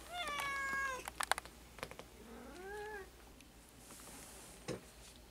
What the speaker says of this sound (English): I'm gonna have to deal with this cat.